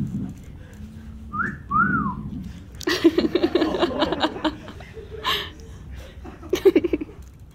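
A few short rising and falling safety whistle tones near the start of a stand-up comedy set, then bursts of laughter and chuckling.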